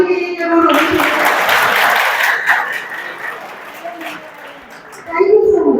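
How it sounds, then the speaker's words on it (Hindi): Audience applause at a university workshop lecture, a broad wash of clapping that swells and holds for several seconds before tapering off, with a voice cutting back in near the end. "एक ताली इनके लिए जरूर होनी चाहिए."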